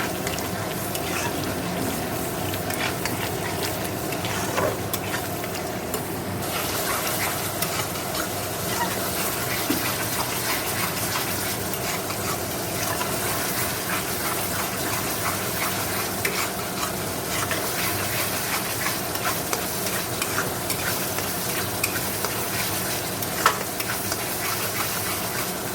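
Onion, tomato and garlic with dry red chili, cumin, Kashmiri chili and coriander powders being sautéed and stirred in a pan for boal fish curry, a steady soft sizzle with scraping stirs running throughout, no talk.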